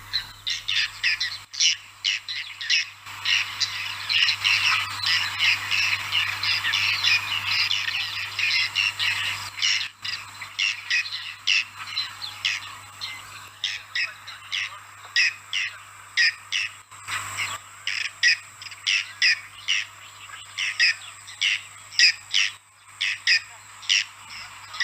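A group of kingfishers calling while hunting over water, a rapid series of sharp, high, rattling squawks in repeated bursts, fairly close and loud, with a low steady hum underneath and short pauses between bursts.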